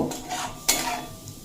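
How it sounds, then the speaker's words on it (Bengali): Cashew-poppy seed paste with green chilli is stirred in a pan over soft frying hiss, with one sharp metallic clank of the spoon against the pan. "বেটে রাখা কাজু পোস্ত আর কাঁচা লঙ্কা দিয়ে খুব ভালোভাবে কষিয়ে নেব"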